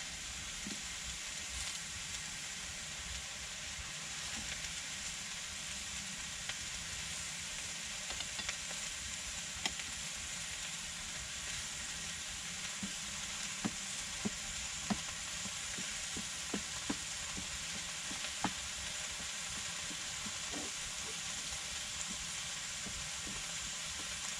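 Steady sizzling and bubbling from stir-fry sauce in a pan on a Trangia 27 camping stove, continuous throughout with small scattered pops and crackles, close by and with no talking.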